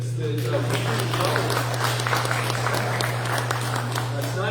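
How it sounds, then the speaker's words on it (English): Audience applause for school board candidates at a Sherman ISD debate for Places 4 and 5, a steady wash of clapping from a room of people sustained throughout, with a constant low hum underneath. "how about an applause for all of these candidates"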